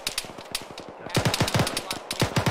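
Rapid bursts of automatic gunfire in an ArmA 3 firefight, sharp repeated cracks in quick rhythm, with a brief lull before a louder, closer stretch of sustained shooting.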